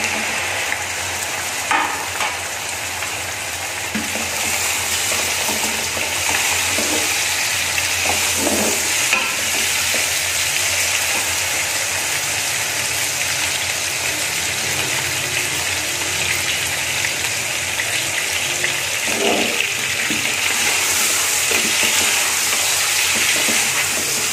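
Chicken and garlic frying in a pan for a restaurant-style chicken pulao, a continuous loud sizzle with occasional scraping stirs throughout.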